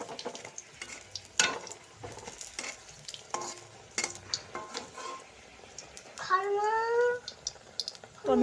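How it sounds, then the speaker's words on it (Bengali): Eggplant fritters (beguni) frying in a pan for a rainy-day meal, a steady soft sizzle with utensil scrapes and clinks, plus a short burst of chirpy squeaks near the end; no one speaks. "তো আমি এক একে সব ভেজে নিই।"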